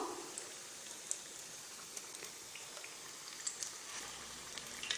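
Vazhaikai, potato and onion bajji frying in hot oil in a pan, a dense, even crackle of bubbling oil throughout, close and steady with scattered sharper pops.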